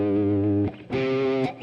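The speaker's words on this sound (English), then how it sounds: "you could hardly hear the reverb. It's just like almost like a room." Two sustained electric guitar chords ring out through a club reverb pedal, each trailing off into a subtle, roomy reverb tail; no one speaks.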